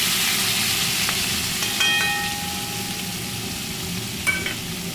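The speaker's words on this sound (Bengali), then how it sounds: "এই যে আমি গোটা জিরে দিয়ে দিচ্ছি তেলের মধ্যে, কেটে রাখা পেঁয়াজ কুচিটা দিয়ে দিচ্ছি" Whole cumin seeds and chopped onion sizzle in hot oil in a pan, a steady crackling fry with a brief high clink or two of utensils partway through, no voices.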